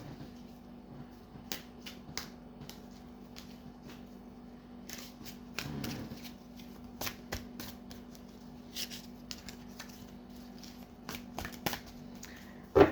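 Tarot cards are shuffled in bursts of crisp snapping riffles and flicks, close and intermittent over a faint steady hum.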